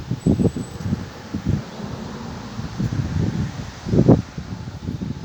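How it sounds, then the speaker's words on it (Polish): Gusty wind blows outdoors beside a VW T4 van, buffeting in irregular bursts of rumbling noise with calmer stretches between strong gusts. "Jest dość wietrznie i nieprzyjemnie"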